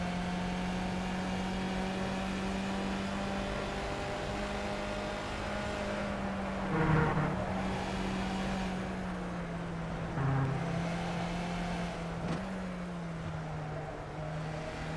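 Race car engine in the iRacing sim holding a steady drone, with brief revving blips and gear-change surges around the middle and later, loud and continuous with no talking.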